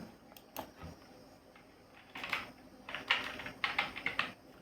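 Computer keyboard keys tapped while entering text into a signature line in Excel, a few isolated clicks followed by quick bursts of close, crisp typing.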